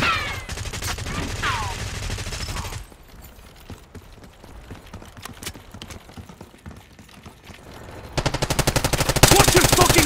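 Gunfire in Black Ops 6 multiplayer: rapid automatic bursts up close, then a quieter stretch of scattered distant shots, ending in loud sustained full-auto fire with faint voices in the mix.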